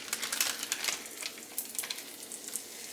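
Tuna cakes frying in vegetable oil in a hot pan, a close, steady sizzle dotted with quick crackling pops.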